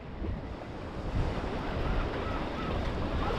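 Steady wind blowing across an open shoreline in a Mexican fishing town, with low rumbling gusts and a soft wash of surf in the background.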